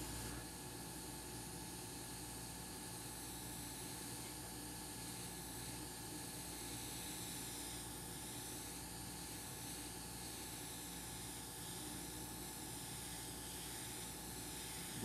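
An airbrush sprays paint onto a wooden frame to create a woodgrain finish, a faint, continuous hissing rush of air with no breaks.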